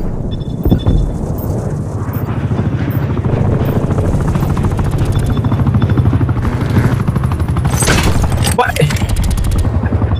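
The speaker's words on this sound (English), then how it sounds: "Attack helicopter above." An attack helicopter in the video game Call of Duty Cold War drones steadily overhead with a continuous rotor rumble, mixed with bursts of gunfire and a sharp explosion near the end, while a voice talks over it.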